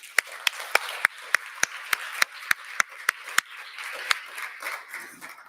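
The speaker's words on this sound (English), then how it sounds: "Can we give them a round of applause" Clapping at an online community conference on digital upskilling: sharp, evenly spaced claps from one pair of hands close to the mic, about three per second, steady and then thinning out into a softer patter.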